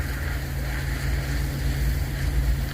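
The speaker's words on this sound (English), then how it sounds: "Got this big old barge going by up here though." A big barge passes on a river, giving a low, constant engine rumble with steady broadband wash and wind noise, heard from nearby with no talking.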